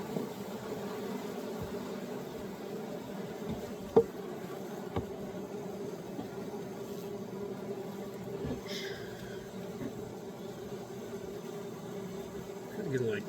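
Honey bees drone in a steady, dense hum at an open beehive during a varroa mite check, close and continuous, with a few faint knocks and handling sounds over it.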